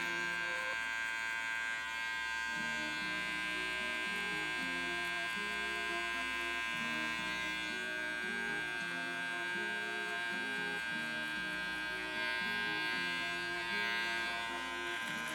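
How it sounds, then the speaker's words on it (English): An electric hair trimmer buzzes steadily and fairly close throughout as it cuts hair for a mid fade with a textured crop, its tone wavering slightly as it moves. "So now I'm gonna go ahead and grab my trimmer and start taking out the bottom of the hair."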